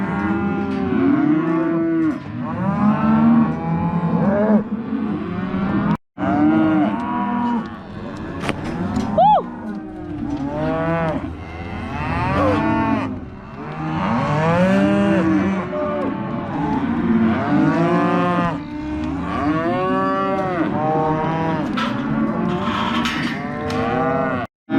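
Herd of cattle mooing loudly and repeatedly, many overlapping low bellows close by with barely a pause, a few whoops and voices mixed in.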